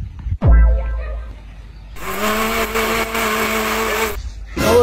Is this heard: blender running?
yes